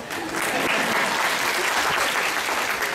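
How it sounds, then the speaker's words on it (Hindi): Lively applause from an audience at a Teachers' Day singing session quickly swells into dense, continuous clapping. It stays loud and even, close up, for the whole stretch. "ताली बजाओ"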